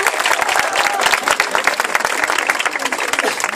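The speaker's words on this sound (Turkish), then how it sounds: "Büyük alkış alalım lütfen" Wedding guests at a civil marriage ceremony break into big, sustained applause, dense and bright clapping that stays loud and even throughout.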